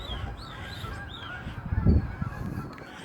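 Waterfowl at close range give a few honking, quacking calls, with one louder burst in the middle over faint outdoor background noise.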